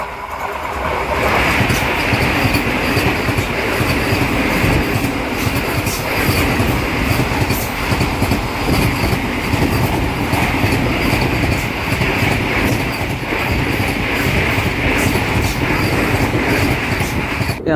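A train runs on the Tirupati–Charlapalli line near Bommaipalli station, its wheels rumbling and clattering in a loud, steady roar from close by that lasts the whole time, with no talking.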